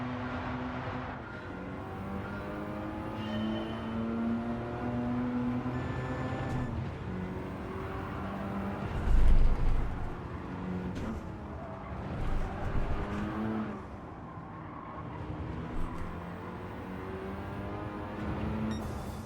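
Car lapping a track in Gran Turismo during a license test, engine rising and falling through gear changes and corners, steady and fairly close, with a low thump midway and a few revving surges.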